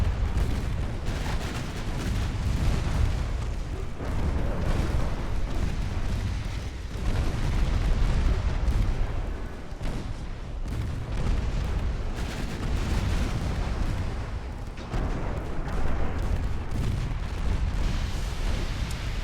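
Heavy naval gunfire rolls through a warship battle in Ultimate Admiral: Dreadnoughts, with big 15-inch guns firing broadsides. Deep booms and rumbling blasts come one after another, loud and dense, with no talk over them.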